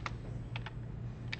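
A computer keyboard is tapped in a few quick, sparse keystrokes, soft and close, over a steady low room hum.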